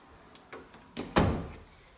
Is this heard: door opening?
yes